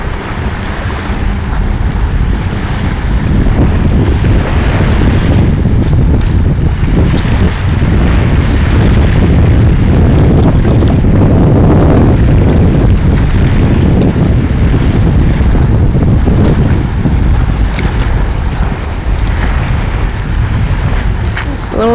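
Jet ski riding out on the sea off Jamaica, a continuous loud roar of wind buffeting the microphone mixed with engine drone and water rush, steady throughout with no clear voices.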